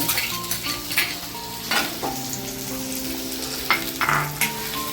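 Chopped onion sizzles and fries steadily in hot oil in a pan while cooking a Marathi-style pumpkin sabzi, with occasional stirring scrapes and soft clinks over the continuous crackle; no voices.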